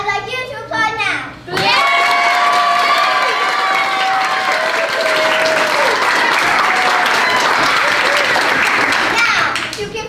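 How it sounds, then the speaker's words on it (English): Loud, sustained applause from a middle school play audience fills the room after a brief stretch of children's voices, with scattered shouts and cheers rising over steady clapping. "I'd like you to applaud now."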